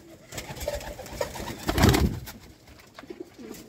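Rare rooftop pigeons kept by a Sialkot fancier coo softly in the foreground, low throaty calls with a louder burst of wing or body movement midway, and faint background noise in between.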